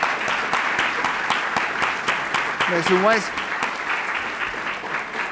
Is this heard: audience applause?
yes